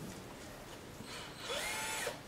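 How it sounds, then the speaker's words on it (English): A power drill whirs briefly, its pitch rising as the motor spins up near the end of the short clip. "holds up the drill"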